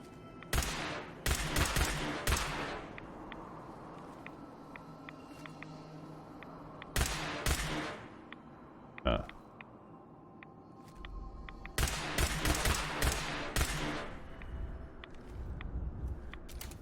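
Bursts of rapid gunfire in the Fallout 4 video game come in several loud volleys separated by quieter stretches of low hum, with a single sharp shot in between.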